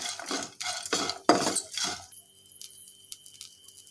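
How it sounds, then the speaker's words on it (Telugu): Grated fresh coconut being stirred in a pan, a series of close spoon scrapes and metallic clinks against the pan for about two seconds, followed by quieter faint taps and a low background hum. "కొబ్బరి అంతా టూ మినిట్స్ ఫ్రై అయ్యే వరకు ఫ్రై చేసుకోవాలి"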